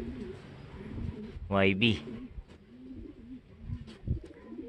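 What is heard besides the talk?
pigeons cooing at a pigeon racing loft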